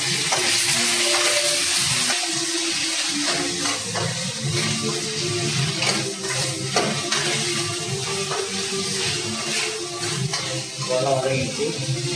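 Brinjal, potato and radish sauté in a pan for sambar, a steady close sizzle with scraping stirs over a continuous hiss throughout.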